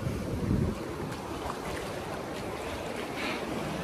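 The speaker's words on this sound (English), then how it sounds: "And I love walking on the beach" Ocean surf rolls onto the beach at Topsail Island, North Carolina, a steady, broad wash of waves mixed with wind buffeting the microphone, louder at the start and then holding at an even level.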